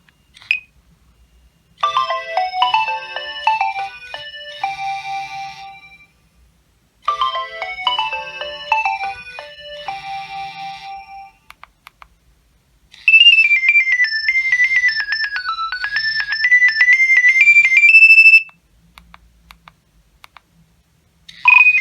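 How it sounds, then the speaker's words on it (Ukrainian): Standard polyphonic ringtone melodies from Nokia 6510 and Nokia 2300 mobile phones play loud and clear, two short tune phrases followed by a longer, warbling melody, with brief silences between them. "послухаємо ще трохи стандартних мелодій і просто поностальгуємо."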